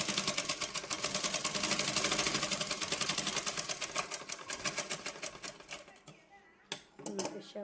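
A sewing machine stitches the umbrella sleeve of a double-sleeved nightie in fast rapid-fire bursts of needle clatter, loud and close, slowing into shorter intermittent runs toward the end.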